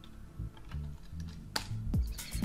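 Computer keyboard typing as commands are entered: soft, quick key clicks in short irregular bursts, close and fairly quiet, with no voice over them.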